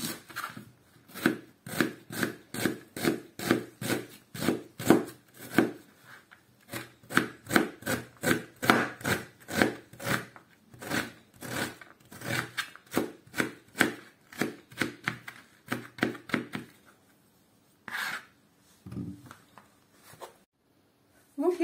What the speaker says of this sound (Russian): Сначала будем резать лук мелким кубиком.